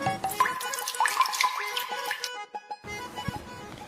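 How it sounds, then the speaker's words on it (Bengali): Water runs from a tap into a container, a close, fairly steady trickle and splash with some bright ringing tones, easing off for a moment near the end. "এ নাও, এটা দিয়ে জল ভরো, এখান থেকে জল নাও।"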